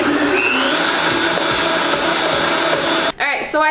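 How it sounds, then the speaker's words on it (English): A blender whirs loudly and steadily as it purées a vegan mozzarella mixture, the motor cutting out near the end before brief clattering and a voice. "cover this bad boy up and then blend everything together"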